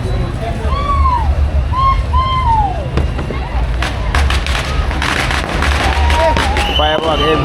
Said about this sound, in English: Firework everywhere